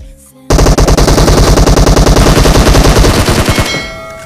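A long, loud burst of rapid automatic gunfire from the video game PUBG Mobile, up close and steady in rhythm, begins abruptly, then tapers off near the end with no talking over it.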